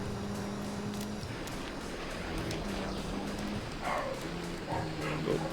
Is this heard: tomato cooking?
no